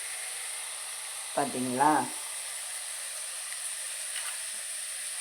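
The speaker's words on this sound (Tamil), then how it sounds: "இது வெங்காயம் வணக்கிட்டு இருக்கேன்" Onions sauté in a pan, giving a steady, soft sizzling hiss throughout while someone briefly speaks over it.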